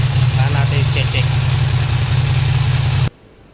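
A Yamaha MT-10 motorcycle engine idles while warm and showing a check-engine fault, a loud, steady, close low rumble that cuts off abruptly near the end, with faint voices in the background.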